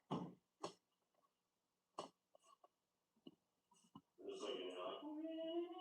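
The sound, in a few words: blowing nose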